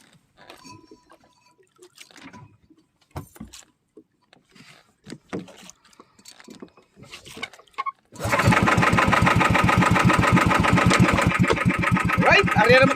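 A boat engine coughs and catches after scattered knocks and handling noises, then runs loud and steady with a fast throbbing idle close by.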